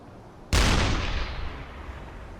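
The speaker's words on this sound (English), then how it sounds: "on the deck gun between the two ships, we've got some high explosives loaded" A single heavy blast from a U-boat deck gun firing a high-explosive shell in a video game, a sharp loud crack followed by a long rumbling decay.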